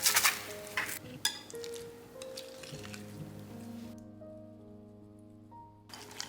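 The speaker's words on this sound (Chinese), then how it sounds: "放凉的卡士达酱只需要稍微搅拌一下，就会恢复顺滑" Cooled custard cream stirred in a bowl with a few wet squishing strokes near the start, then a soft, steady background hum.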